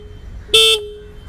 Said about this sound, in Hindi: ये है हॉर्न